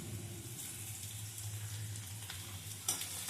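Steady low sizzling of chopped ginger and garlic frying in hot oil, continuous and fairly quiet, with a faint scrape or stir near the end.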